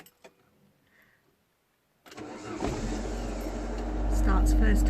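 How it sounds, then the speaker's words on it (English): A Ford Transit van with automatic transmission starts up after a couple of seconds of quiet, then settles into a steady, close idle that rises slightly in level toward the end. "So I'm going to turn the engine on."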